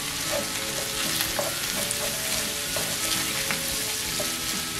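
Rice with curry powder stir-frying in a pan, with steady close sizzling and frying crackle and the scrape of stirring, with no talk.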